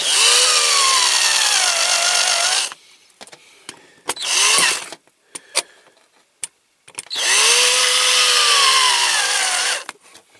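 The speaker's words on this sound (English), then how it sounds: "My drill's getting a bit flat again." A cordless drill with a flattening battery whines loudly in two long sustained runs, separated by a stretch of clicks, knocks and short buzzes, while restoring a Dinky Toys caravan model.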